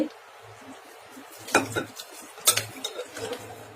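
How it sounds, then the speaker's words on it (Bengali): Cooked fish curry being poured out of a metal pot, with several sharp scraping clinks of a ladle against the pot rim and soft wet splashing between them, fairly close and with no talk. "মাছের ঝোল হয়ে গেছে, ঢেলে নিচ্ছি"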